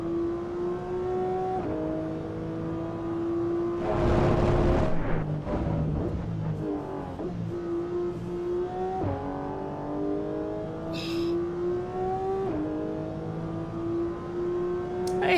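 A race car engine in Assetto Corsa Evo revs hard and climbs through repeated gear shifts, loud and close, with rising pitch and a rougher burst partway through. No one speaks.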